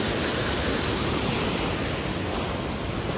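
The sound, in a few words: swollen stream rushing water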